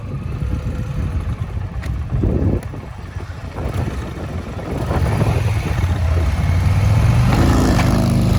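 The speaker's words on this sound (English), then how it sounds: "Oh, the Indian bogs and almost stalls, and the Harley is out of here." A Harley Road Glide and an Indian Challenger drag racing, heard as a loud low engine roar through heavy wind buffeting, building and rising in pitch toward the end.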